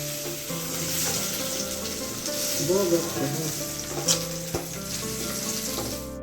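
Food is deep-fried in a home kitchen as prasad for the Loknath Baba festival, with a steady, close sizzle of hot oil and occasional clinks and scrapes of stirring.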